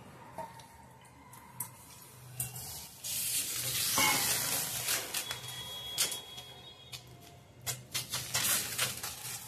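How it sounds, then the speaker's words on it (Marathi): Jowar bhakri flatbread sizzling on a hot tawa after water is dabbed on its side, a soft hiss that swells in the middle and fades, with faint clicks and light ticks scattered throughout. "तवा गरम झालाय, त्यात आपण आता भाकरी टाकून साईडनं पाणी लावून घेऊया"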